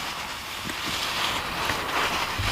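Close, dense crackling and fizzing right at the ear in an ASMR ear-doctor roleplay, a steady rustly hiss with small irregular pops and no talking.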